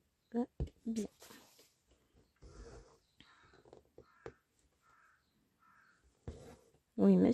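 A crow caws several times in short harsh calls, close and fairly clear, alternating with a person speaking nearby.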